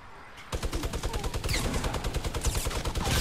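A minigun in a video game fires in a long rapid burst, a continuous loud mechanical stutter that starts abruptly after a brief quiet moment and keeps hammering to the end.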